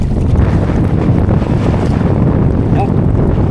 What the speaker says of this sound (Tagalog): Tabi lakas ng hangin.